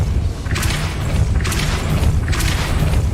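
A spell cast in Hogwarts Legacy, with three deep booming thuds that come at a regular pace over a low game rumble.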